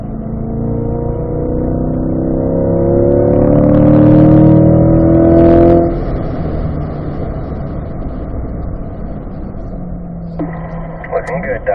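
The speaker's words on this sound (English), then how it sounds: "Begin to accelerate, Doug." A car accelerates on a race track, its engine loud and close as it rises steadily in pitch for several seconds, then settles into a steadier, quieter drone.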